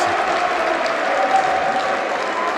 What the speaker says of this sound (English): the crowd very enthusiastic, cheering on their champions.